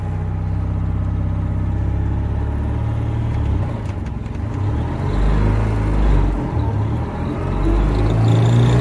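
A 1959 NSU Prinz pulls away gently in first gear, its small engine droning loud and close from inside the car, with the pitch rising gradually as it gathers speed.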